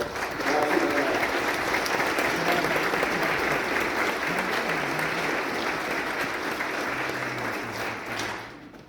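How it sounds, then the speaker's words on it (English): Sustained applause from a lecture audience, steady and dense throughout, with a few faint voices mixed in before it tapers off at the end. "So why not a round of applause for the hundreds of people who are online right now watching live."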